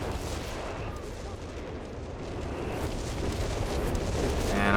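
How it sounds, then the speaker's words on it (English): A zeroing artillery barrage in the Company of Heroes 3 strategy game pounds away as a dense, rumbling roll of shell impacts and gunfire that builds slightly in loudness toward the end. "Barrage called down. It's going to be the zeroing artillery."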